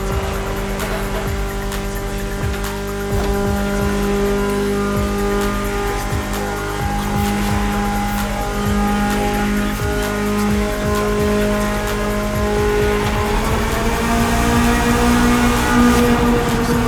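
A BMW E30 drives through the Maui roads of the racing video game The Crew Motorfest, its engine droning and shifting pitch steadily and loud throughout, with occasional tire noise and no voices.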